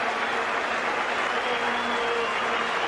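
A cricket crowd in an India versus Australia match in 1991 gives a standing ovation, sustained loud applause from a large stadium audience with dense, even clapping throughout and no break.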